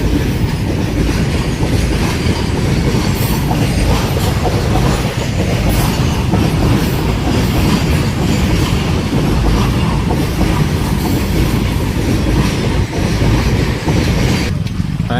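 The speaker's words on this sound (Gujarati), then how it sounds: "તમે જોઈ શકો છો રેલગાડી" A train rolls past a railway crossing, a loud, steady rumble of wheels and rail clatter filling the whole stretch with no voices.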